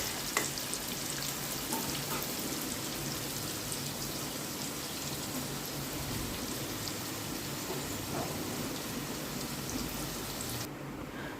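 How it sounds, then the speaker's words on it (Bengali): Potatoes frying in hot oil give a continuous, even sizzle and crackle at moderate loudness, with occasional stirring, and no voices are heard. "এবার আমি আলুটাও ভেজে নিচ্ছি ভালো করে"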